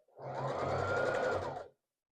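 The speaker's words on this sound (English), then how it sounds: "So, that should make the sewing machine softer. Not as loud." A domestic sewing machine stitching a scrap quilt block runs steadily for about a second and a half, a close, even mechanical whir with a low hum, stopping abruptly with no talk.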